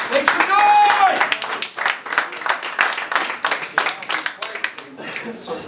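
Cheering and clapping from a crowd at a rap battle, loud and close, with shouts over rapid, uneven hand claps throughout.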